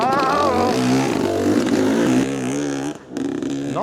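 A dirt bike engine revs loudly and steadily through a slippery flat 180-degree corner, pitch rising and falling with throttle changes, then briefly dropping off before picking back up near the end.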